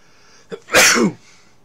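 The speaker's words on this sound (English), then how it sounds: "Nothing like sneezing." A single loud sneeze, preceded by a short sharp intake of breath, then quiet.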